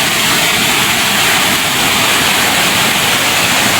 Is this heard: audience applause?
no